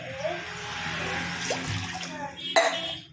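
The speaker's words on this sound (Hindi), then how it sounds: "अभी हम इसमें टमाटर में पानी डालेंगे" Water poured into a cooking pot of cooked tomatoes, a soft splashing trickle in a kitchen with a brief louder splash near the end, while a person talks over it.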